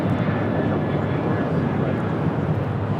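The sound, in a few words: Delta Boeing 737-800 taking off at LAX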